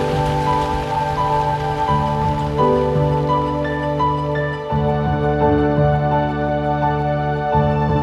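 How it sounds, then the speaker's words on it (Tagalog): Steady rain falls on surfaces, a dense continuous patter with tonal background hum layered underneath, evenly loud throughout with no talking. "Umuulan!"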